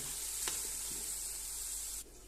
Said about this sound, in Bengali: তো টমেটোর সসটা আমি কষাই নিচ্ছি